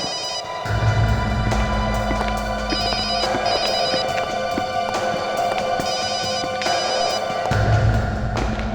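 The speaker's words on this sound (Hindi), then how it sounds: "फोन बज रही है।" A telephone bell rings in repeated bursts over a steady low hum in a tense crime-drama scene. The rings are clear and fairly loud, with short gaps between them.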